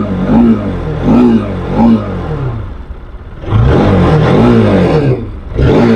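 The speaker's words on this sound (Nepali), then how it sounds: "अब बाइकको साउन्ड सुन्नुस् कस्तो छ" A motorcycle in fresh condition, offered for sale, revs its engine loudly and close, the roar swelling and dropping back several times over a steady idle.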